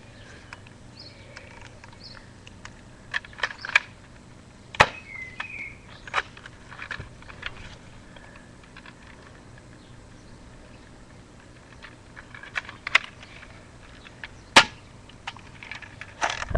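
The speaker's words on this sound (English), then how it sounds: "I'm going to do three shots with the shotgun" Shotgun fired at an outdoor range test, a few sharp, separate reports scattered across a quiet background, with brief clicks and handling noises in between.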